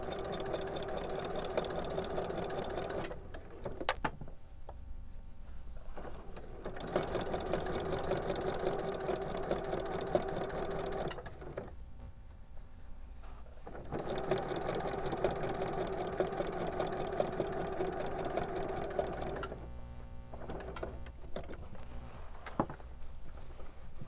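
Three long bursts of sewing-machine stitching on a dog-bone Christmas stocking, a steady mechanical whir broken by brief pauses for pivoting, close and fairly loud.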